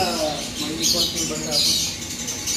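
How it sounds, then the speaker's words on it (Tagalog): Pigeons make soft coos and brief chirps at close range, mixed with shuffling and a voice talking nearby. "kinuha na ni Kiyo de Pogi yung mga kalapati natin"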